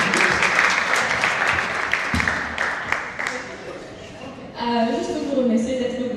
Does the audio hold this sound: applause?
yes